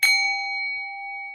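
A single hand bell is struck once, giving a loud, clear ring with steady tones that hold and slowly fade over a little more than a second, with no other sound.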